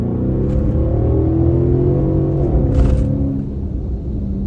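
A 2016 Mercedes-Benz S550 Coupe pulls hard under full throttle, its engine a loud, deep rumbling roar heard from inside the cabin that builds and then eases off toward the end.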